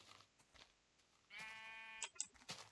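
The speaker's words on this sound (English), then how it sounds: "Oh, sheep." A sheep bleats once in Minecraft, a short wavering game sound effect heard clearly over near-silence with a few soft clicks around it.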